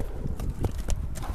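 A two-year-old Karabair horse trots with an even clip-clop, several close, distinct hoofbeats in quick rhythm over a steady outdoor background.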